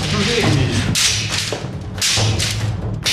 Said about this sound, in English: Our goal was to stab our hands all the way through a bundle of bamboo reeds